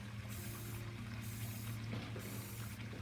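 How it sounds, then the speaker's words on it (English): Finish sprays onto a wooden dresser outdoors in light, even passes, a soft continuous hiss under a low hum, faint throughout with brief gaps between bursts. "you can see I'm just spraying it outside."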